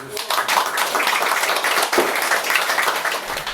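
An open-mic audience gives a dense, even round of applause after a spoken-word performance. Many hands clap together, close and continuous, for a few seconds without a break.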